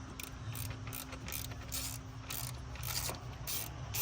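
Ratchet clicking while tightening on the high-pressure fuel pump of a BMW 335d, a steady run of rapid mechanical clicks with a faint hum underneath, close up and with no talking.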